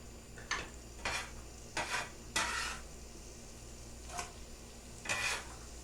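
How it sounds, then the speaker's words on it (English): Meatballs for a stew cook in a hot pan, giving a faint steady sizzle broken by about six soft scraping stirs of a utensil against the pan. "The pan's still pretty hot. It's already bubbling, so I'm just going to throw these all in."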